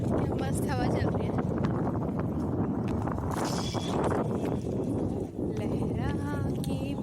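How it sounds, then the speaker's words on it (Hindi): Wind gusts across the microphone beside a dam at Srisailam, a steady low rumbling buffet that lasts throughout while people talk over it. "मस्त हवा चल रही है।"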